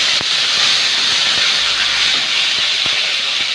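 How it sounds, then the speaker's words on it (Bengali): Garlic paste hits hot oil with whole panch phoron for a plum pickle, setting off a loud, steady sizzling hiss with occasional faint clicks, and there is no talking. "এখন দিয়ে দিচ্ছি রসুন পেস্ট।"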